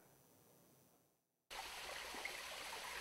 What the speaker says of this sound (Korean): 이 바윗물은 선녀 옷자락 바위로 흘러들어 수십 미터 절벽 아래로 떨어집니다.